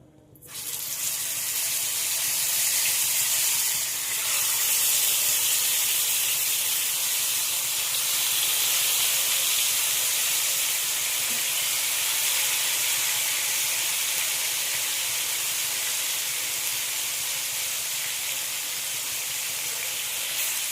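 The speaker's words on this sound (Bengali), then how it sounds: "ওই তেলের মধ্যেই আমি বাকি চিকেনগুলো ভেজে নেব।" Chicken pieces frying in a pan of hot oil for a tandoori chicken gravy, a steady loud hiss and crackle that runs unbroken for about twenty seconds with no talking.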